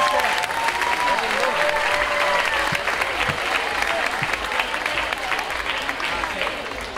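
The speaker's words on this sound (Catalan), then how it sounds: "Un fort aplaudiment per ells." A crowd claps steadily at an outdoor proclamation ceremony for the hereu and pubilla in Anglès, sustained dense applause lasting several seconds with voices mixed in.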